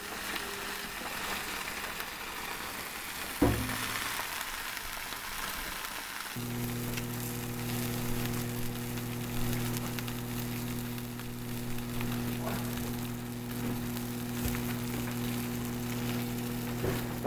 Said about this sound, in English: now that the salmon's been marinated, I'm just gonna throw it into the pan, cook one side for about 4 minutes